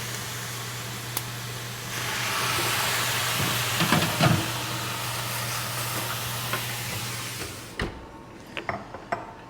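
Water splashed into a hot oven during baking of semolina bread with sesame seeds, giving a broad, steady steam hiss that swells for several seconds, then cuts off into a few small clicks and knocks.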